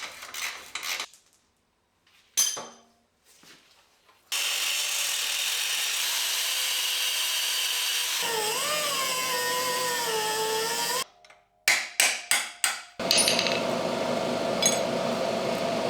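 Metalwork on a vehicle frame after the body is pulled off: clanks and knocks, then a long loud whine of a cutting tool that shifts pitch as it bites, followed by a series of sharp hammer strikes and more grinding.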